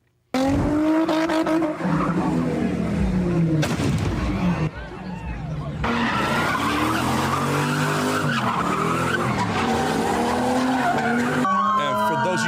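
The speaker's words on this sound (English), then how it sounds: "These cars are spinning dangerously out of control." Several cars spin donuts on a street in Oakland, California, their tires squealing and skidding loudly and almost nonstop, with engines revving and voices in the background.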